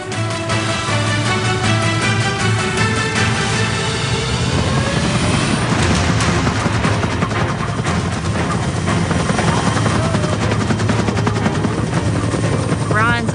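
A helicopter roars loudly and continuously nearby, its rotor thumping in a rapid pulse while engine whine fills the background throughout.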